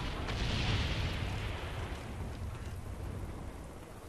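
A napalm strike in the game Call of Duty First Strike DLC map Kowloon gives a loud, sustained roaring rumble that swells early and slowly eases, a broad fiery wash with no voices over it.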